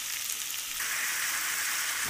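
Meat dropped into a pan of lightly fried onions for a palak chicken dish, a soft steady sizzle that brightens and intensifies as the pieces go in, with no talking.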